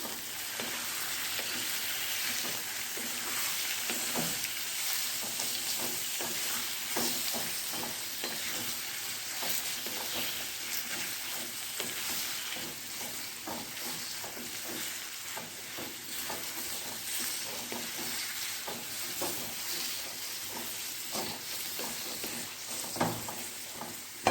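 Radish greens with turmeric and salt are stirred in a hot pan, giving a steady close sizzle with soft scraping strokes throughout and no talking.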